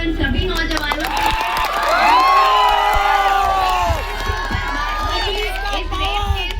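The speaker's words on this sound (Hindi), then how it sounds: "एक बार जोरदार तालियां हो जाए उन सभी नौजवानों के" A rally crowd cheers loudly for young protesters, with raised shouts and whoops over scattered clapping, swelling in the middle and easing off toward the end.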